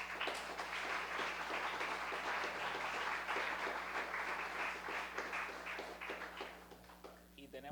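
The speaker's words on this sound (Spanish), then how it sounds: "su protagonista, Atilio Borón, para quien pido un aplauso." An audience at a book presentation applauds in a sustained burst of dense clapping that thins slightly toward the end, with a voice starting to speak as it fades.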